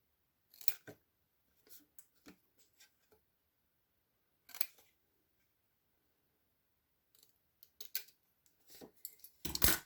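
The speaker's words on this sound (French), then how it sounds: "Attention à l'extrémité, on va couper net le carré." Scissors snip paper to trim a square for a handmade gift box, with sparse, crisp close cuts: single snips and short clusters separated by quiet pauses, ending in a quicker run of cuts.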